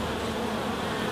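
Honeybees gather at the entrance of a hive, many carrying yellow pollen. Their dense, steady buzzing hum comes from close range and is fairly soft, with no voices over it.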